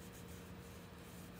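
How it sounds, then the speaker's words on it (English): Quiet, steady paintbrush scrubbing against a wooden sign, close up, with a faint dry rasping texture and no voices. "kind of sanding it a little bit with my brush"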